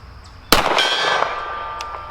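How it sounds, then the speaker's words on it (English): A pistol round striking a silver steel gong target 50 yards out at an outdoor range, giving a single sharp metallic clang at impact followed by a long, bright ringing tone that slowly decays. "Silver gong on the left at 50."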